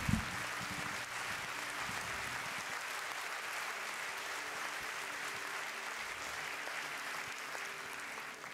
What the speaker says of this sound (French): un tonnerre d'applaudissements pour la lauréate du prix de toute une vie de travaux